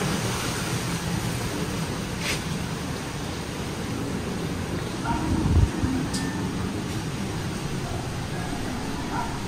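Steady broadband rushing wind buffets the microphone, with a brief low thump partway through; no talking.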